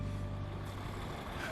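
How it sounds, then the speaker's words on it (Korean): A large truck rumbles in toward a canal dock in Madagascar, a low engine drone with a faint tonal whine, steady and moderately distant. "왠지 이곳 분위기와 어울리지 않는 대형 트럭 한 대가 선착장을 향해 들어옵니다."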